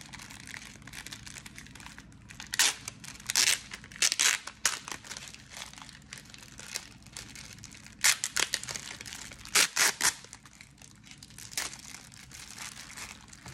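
The plastic packaging of a pumpkin string-art craft kit crinkles and tears in several bursts, close and fairly loud, with quiet pauses in between.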